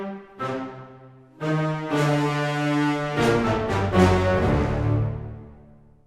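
Sustained high woodwind chords, three patches layered an octave higher than written, entering in staggered swells, then holding full and bright before fading out.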